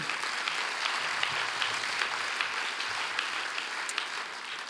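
Steady applause from the audience at the 2020 Folsom State of the City event, honoring the gold sponsors: an even, sustained patter of many hands at moderate distance, holding level for several seconds without speech.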